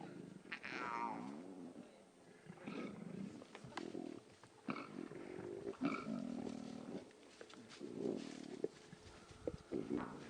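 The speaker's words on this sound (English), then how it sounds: "Those are cubs growling." Lion cubs growl and rumble on a safari drive, a series of uneven, fairly faint growls rising and falling over about ten seconds, heard from a short distance with no talk.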